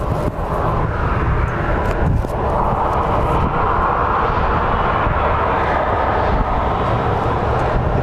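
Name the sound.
Lynx Air airliner at Phoenix Sky Harbor airport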